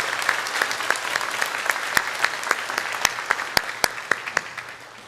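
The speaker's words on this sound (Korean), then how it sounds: "우리 박수로 환영하겠습니다." A church congregation at a Sunday worship service claps to welcome visiting missionaries from Honduras. Steady, close applause from many hands fills the room and slowly thins out toward the end.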